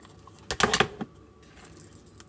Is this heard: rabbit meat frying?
no